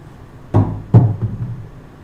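Craps dice land on the table in two sharp clacks about half a second apart, followed by a smaller bounce and rattle, close and clear with no talking.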